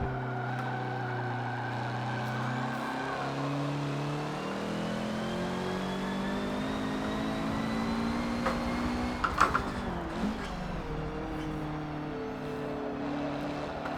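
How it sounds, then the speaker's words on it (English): A Nissan GT-R race car engine in Forza Motorsport 7 on the Nordschleife drones and shifts pitch as it accelerates, with a brief skid-like burst partway through and steady engine roar throughout. "Coming up behind a newer GTR. That thing sounds so good from back here behind it."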